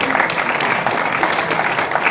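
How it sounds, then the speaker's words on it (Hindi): Steady applause fills a poetry gathering (kavi sammelan) in Daltonganj, honouring a guest from Palamu, a dense continuous patter of clapping at an even level throughout with no pauses. "तो तालियों की गड़गड़ाहट कम नहीं होनी चाहिए।"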